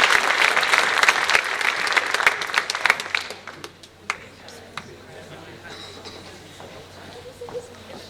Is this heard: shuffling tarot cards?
no